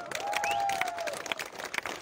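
Audience applause at a public gathering honoring a Manas epic reciter, a dense wash of clapping with scattered sharper claps and a faint whistle-like tone near the start, steady and fairly close.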